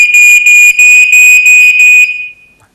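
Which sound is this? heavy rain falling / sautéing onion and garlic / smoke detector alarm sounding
smoke detector alarm sounding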